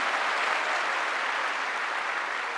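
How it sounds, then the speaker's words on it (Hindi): An audience at a success day event in Delhi breaks into loud, sustained applause, a dense wash of clapping that holds steady throughout with no voices standing out. "प्लीज इनके लिए जोरदार ताली हो जाए"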